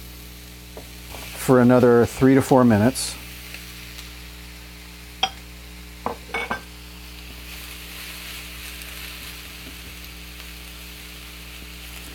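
Yellow squash hits a hot fajita beef skillet, giving a faint steady sizzle under a short burst of speech, with a couple of brief clinks or stirring sounds later.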